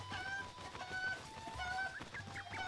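Chickens cluck in Kakariko Village in the video game Zelda: Breath of the Wild, with steady short clucks and calls over light background game ambience.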